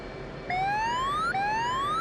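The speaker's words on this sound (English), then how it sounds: "When it powers on, you should hear the radar altimeter warning go off." Two rising electronic whoops of an F/A-18C radar altimeter warning in DCS World sound in succession, each a clean pitch sweep upward, loud and close with no talking.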